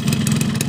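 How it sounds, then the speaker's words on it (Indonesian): A cold two-stroke motorcycle engine running on ECCO 2T oil fires up, giving a short burst of rapid, buzzy pulsing, loud and close. "Oke, gue hidupin dulu mesinnya."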